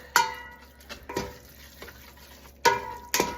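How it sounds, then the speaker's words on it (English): Ground beef breaking up and stirring in a hot pot for chili, a soft sizzle under a few sharp scraping strokes of a utensil against the pot, no talking. "Our pot is hot and we're gonna break up our burger and stir it around while it cooks."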